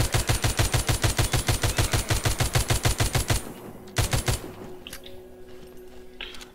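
Machine gun fire in The Walking Zombie 2 video game: a loud, steady rapid burst of shots for about three seconds, a short second burst after a pause, then quieter clicks and clatter.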